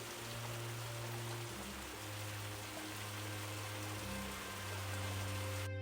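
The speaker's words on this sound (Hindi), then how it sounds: "रास्ते में तेज बारिश होने लगती है" Dense, steady rain patters on a surface, with a low droning tone running underneath throughout.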